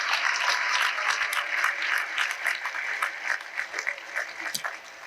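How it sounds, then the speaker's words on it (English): Audience applause for athletics department support staff at a college sports awards ceremony, a dense, steady clapping that fills the room for the whole stretch and fades slightly near the end. "Can we get one more round of applause as well for all of our support staff here in the athletics department?"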